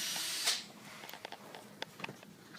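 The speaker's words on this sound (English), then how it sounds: "Just going to use a grinder." An angle grinder cutting three inches off the front of the factory gas tank skid plate on a 2012 Jeep JK: a loud, hissing burst of cutting that quickly fades to faint scattered clicks and rattles.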